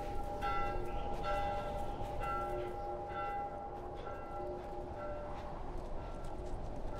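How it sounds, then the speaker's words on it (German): Church bells ring steadily in The Last of Us, a layered peal of sustained tones over a dense rumbling game backdrop, with repeated strikes continuing throughout. "Und auch bei Joel hören wir die Glocken läuten."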